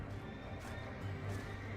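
Horses whinny and neigh repeatedly over a steady, dense background of game noise, fairly loud throughout, in World of Warcraft.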